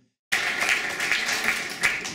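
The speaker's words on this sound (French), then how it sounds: "ils applaudissent évidemment" An audience at a French song contest bursts into applause after a sudden start, steady dense clapping with a few sharper claps standing out, fairly close and sustained.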